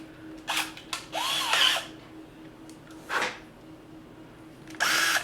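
A cordless drill drives screws in short bursts, several quick whirring runs of about a second each with pauses between, fairly close and moderately loud, with no voices.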